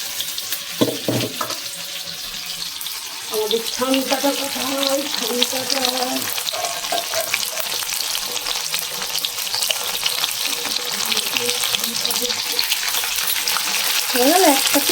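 Mushrooms for mushroom chilli crackle and sizzle in a blackened iron wok, a steady close frying sound with occasional scrapes, while someone talks over it at intervals.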